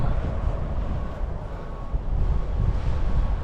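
Steady low wind rumble buffeting the microphone outdoors in a park, continuous and fairly loud with gusts rising toward the end, no voices.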